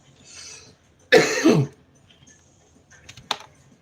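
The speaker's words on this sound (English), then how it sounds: "Y'all hear that little cough?" A single short, sharp cough, fairly close, with soft clicking before it and a faint tap afterward in a quiet room.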